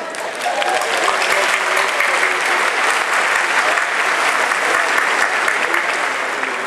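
A Georgia Republican convention audience applauding, a dense, steady wash of many hands clapping at once, loud and sustained for several seconds with no break.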